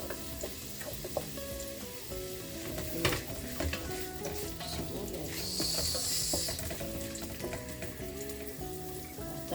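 Onion going into garlic sautéing in a pan for a Filipino mekus mekus stir-fry, with a steady sizzle, stirring scrapes and a clatter around the three-second mark. A brief hiss follows near six seconds.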